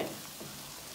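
Garlic shrimp sizzling in a frying pan with garlic powder as it is stirred, a short, steady, close frying hiss with no talk.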